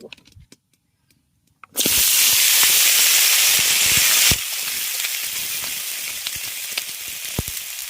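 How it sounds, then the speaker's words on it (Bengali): Cut drumstick stalks and potato pieces hit hot mustard oil with a sudden loud sizzle that settles into a steady frying hiss. A few quiet taps come just before it and faint clicks continue underneath. "তেল গরম হয়ে গেছে এবার আমি কেটে রাখা ডাঁটা আর আলুটা এর মধ্যে দিয়ে"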